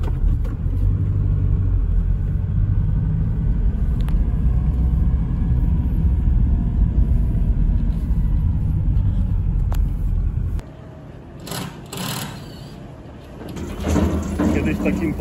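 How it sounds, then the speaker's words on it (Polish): Car setting off while towing a tow trailer, a loud low engine rumble that drops away after about ten seconds, then clattering and knocking; someone speaks over it. "właśnie wyjeżdżam z przyczepą, lawetą"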